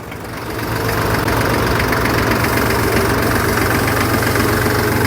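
An ISEKI TS2500 tractor's three-cylinder, 28-horsepower diesel engine idles steadily close by, a loud low rumbling knock that rises at the start then holds constant, with no voices.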